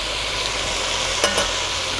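Garlic sizzles and fries in a pot with bell peppers and onions during a one-pot arroz con pollo, a steady broadband hiss with a couple of brief stirring clinks near the end, close and fairly loud.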